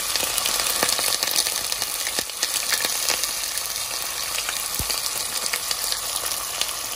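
Hot oil sizzles steadily in a pan while chicken rezala is being cooked, with a dense continuous crackle and a few sharper pops, close and fairly loud with no talking.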